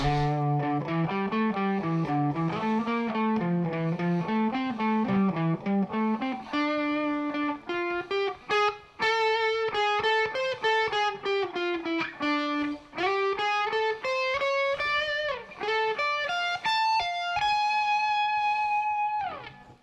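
A distorted electric guitar plays a sustained, bending lead line with ringing overdriven notes, loud and continuous, ending on held high tones.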